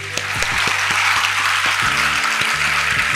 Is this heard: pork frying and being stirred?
no